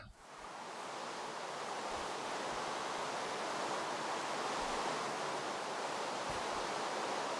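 Steady rain in the video game Minecraft, a dense, even hiss of falling water that fades in and holds constant at a moderate level with no voices.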